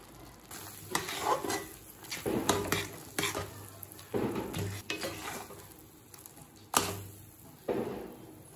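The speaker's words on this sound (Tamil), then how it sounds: "இங்கே கட்டியாக இருக்க மாதிரி தெரிஞ்சதுன்னா கரண்டியாலே நல்லா கிண்டிடுங்க." A ladle stirs thick wheat halwa in a hot pan, producing repeated close scraping and squelching strokes over a soft sizzle, with occasional clinks of metal against the vessel.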